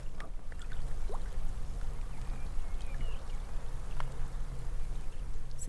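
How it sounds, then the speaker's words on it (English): Water seeps and pops out of drying seaweed on a shoreline of the Scottish island of Cumbrae as the tide recedes. Fine crackles and clicks rise over a steady wash of nearby water, with no talking. "So that's the sound of all the water sort of coming out of the seaweed,"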